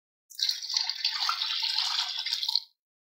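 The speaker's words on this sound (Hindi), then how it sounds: "अब मैं 1 गिलास पानी शामिल करूंगी" A glass of water poured into a wok of hot oil and sugar for rice flour halwa, a single continuous sizzling, bubbling hiss lasting about two seconds, then cutting off to silence.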